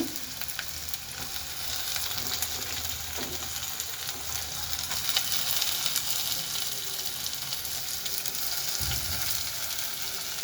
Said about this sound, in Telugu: ఇదంతా వేగేంత వరకు వెయిట్ చేద్దాం. ఎర్రగా వేగాలి. ఇలా కలుపుతూ ఉండాలి.